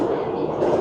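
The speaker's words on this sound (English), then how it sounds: "express train passes us" Express train rushing through a small local station on the Inokashira line in Shimokitazawa, a steady close rumble and rush of railcars for under a second, loud and continuous.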